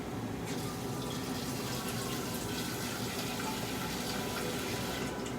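Tap water runs steadily into a pot in a home kitchen, making a continuous, even splashing rush for several seconds with no talking.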